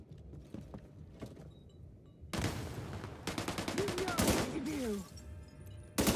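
Machine gun fire in the video game The Division 2, rapid dense bursts that build from scattered shots into sustained loud rattling with mechanical clatter, while voices talk underneath.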